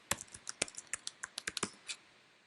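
Computer keyboard being typed on to log in to Sage 300 construction accounting software: about a dozen crisp, close key clicks in quick irregular bursts, ending with one softer keystroke, nothing else audible.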